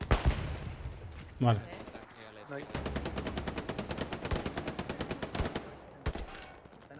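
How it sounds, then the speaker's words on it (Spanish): Gunfire in the World War II video game Hell Let Loose: scattered single shots, then a long sustained burst of machine gun fire and later isolated shots, with a player speaking briefly. "¿nos están disparando? Sí, nos están disparando."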